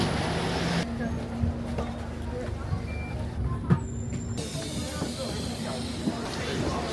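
A London route 55 bus pulling in and stopping: a continuous low engine rumble with a steady hum, a sharp brake thump and hiss partway through, then idling, heard up close from inside.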